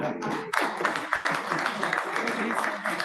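Applause breaks out at the end of a town planning board meeting in East Hampton, a dense patter of clapping hands that rises suddenly and carries on steadily, with voices talking over it.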